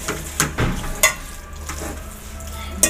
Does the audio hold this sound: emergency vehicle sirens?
no